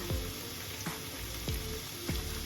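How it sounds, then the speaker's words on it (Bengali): Onions frying in hot oil for a Lote fish curry, after garlic has browned, produce a steady sizzle broken by several rhythmic scraping stirs, close and moderately quiet with no talk. "এবার এর মধ্যে আমি পেঁয়াজ, সম্পূর্ণ পেঁয়াজটাই দিয়ে দিব"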